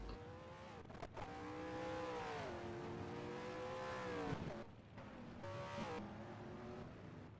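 Race cars at full throttle during a V8 Championship warm-up session at Sandown circuit, several engines revving loudly and continuously with rising and falling pitch as cars pass nearby, one brief dip before the roar resumes.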